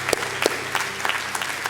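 A church congregation claps together in a sparse, uneven patter of handclaps, fairly faint and loosely rhythmic over a low background hum.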